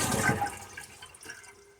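A household toilet tank drains and flushes after the water supply is shut off, a rushing swirl of water that is loudest at first and then trickles and gurgles away more quietly, with no voices.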